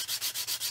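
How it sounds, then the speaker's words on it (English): Rhythmic back-and-forth sanding strokes on a plastic 1/48 scale model fuel tanker kit, about four even passes, close and fairly quiet with a soft hissing rasp. "It's just sanding along here"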